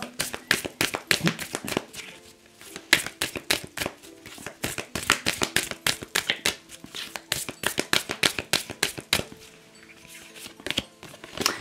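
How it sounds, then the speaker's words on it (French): Oracle cards are shuffled by hand for a reading, a close, rapid series of crisp slaps and riffles that come in uneven bursts and short pauses. "on va faire un premier tirage avec l'oracle de la vision intérieure"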